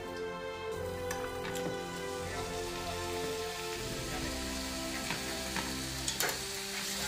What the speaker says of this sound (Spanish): Y venga, para dentro de la sartén.